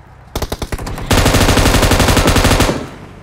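Gunfire in the video game PUBG: a short burst of about five separate loud shots, then a sustained rapid automatic volley lasting around a second and a half, close and dominant with no talk.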